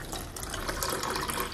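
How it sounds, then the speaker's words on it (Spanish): Water is poured into a slime mixture made with Elmer's glue, a close, continuous splashing pour that runs the whole short stretch without talk. "Y el tercer paso es poner agua, agua, agua, agua."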